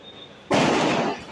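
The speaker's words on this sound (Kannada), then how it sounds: "ಪಟಾಕಿ ಸೌಂಡು ಸ್ವಲ್ಪ" Firecrackers burst at a distance near a temple, a sudden crackling roar that lasts about a second before fading, over quiet background hum.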